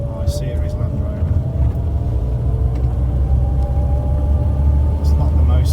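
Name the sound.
driving an Austin Allegro car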